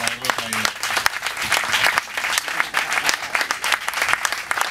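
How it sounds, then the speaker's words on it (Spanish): Audience applause at Semana Negra in Gijón, Spain, a dense, steady burst of many hands clapping that fills the whole stretch, with a brief voice at the start. "así que por favor, démosle un aplauso"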